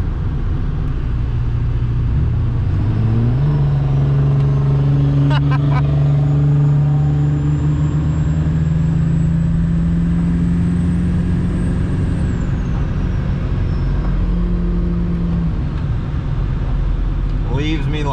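A Cummins diesel pickup truck engine roars hard in a race against a 7.3 diesel, a loud, continuous low rumble with a rising drone through the middle, heard from up close and filling the whole stretch without pause.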